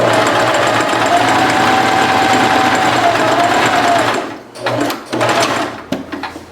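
A sewing machine runs steadily through fabric during a zigzag stitching session, its motor whirring loud and close for about four seconds before stopping, followed by a few short, uneven bursts of stitching.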